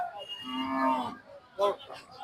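A cow at a crowded cattle market held before the Eid sacrifice in Lalbagh gives one long, loud moo lasting about a second, followed by short fainter calls and bursts of background market noise.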